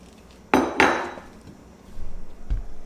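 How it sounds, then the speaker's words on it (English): Shrimp tipped into a Ninja Speedi cooking pot for shrimp fettuccine Alfredo, landing in two sharp, clattering thuds close by, followed by softer shuffling and a final knock. "Go ahead and dump all the shrimp in."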